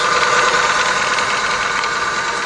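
An electric motor hums steadily on an engine treatment test rig, a constant mechanical drone with a slight knocking texture, close and unbroken, with no voices.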